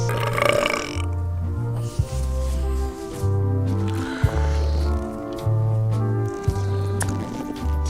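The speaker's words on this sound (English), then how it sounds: "how about a burping contest?" Long, deep, resonant burps in a pirate burping contest in the video game Return to Monkey Island, several loud drawn-out belches in a row with short gaps, close and dominant, with brief voice sounds at the start.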